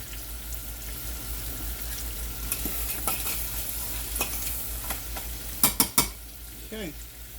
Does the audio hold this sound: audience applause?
no